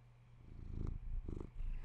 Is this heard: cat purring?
yes